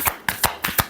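Tarot cards are shuffled up close, giving five short, sharp papery taps in quick succession.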